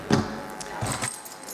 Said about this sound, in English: I will be tossing this set of keys into the air